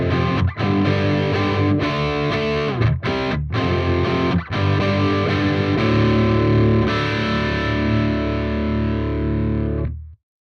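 Electric guitar recorded direct at instrument level and run through a Cubase amp rack, playing a continuous distorted riff with chords and sustained notes for about ten seconds, clear and loud, before cutting off abruptly.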